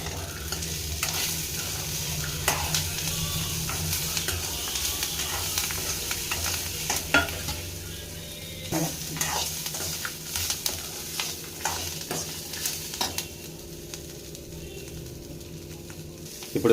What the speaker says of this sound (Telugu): కొంచెం కలర్ చేంజ్ అయ్యేంత వరకు కలుపుతూ ఉండాలండి